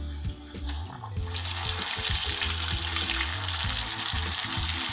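A flour-dusted basa fish fillet slides into hot oil for deep-frying. A quieter start gives way after about a second to a loud, dense, steady sizzle that stays close and continuous with no talking.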